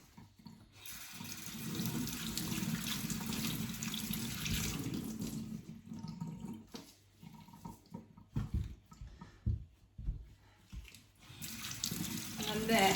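Tap water runs steadily into a sink while a dirty Shark vacuum filter is rinsed and squeezed, the flow breaking into splashy bursts and gurgles as the filter is worked under it.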